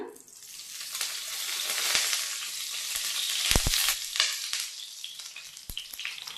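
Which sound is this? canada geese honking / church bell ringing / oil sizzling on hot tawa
oil sizzling on hot tawa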